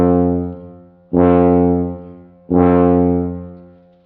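Tuba notes started with a light tongue articulation, two low sustained tones with clean, slightly crisper onsets that slowly decay, played close with no other sounds.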